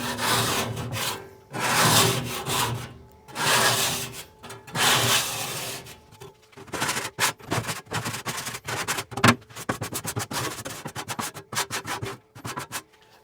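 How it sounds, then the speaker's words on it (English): A paint scraper drags across a smoker's grease catch tray, pushing grease toward the end, giving repeated rasping scrape strokes, longer sweeps first, then quicker choppy strokes, close and fairly loud with no talking. "I just like to keep a paint scraper handy, and what I'm gonna do is I'm just gonna run down my grease catch tray here"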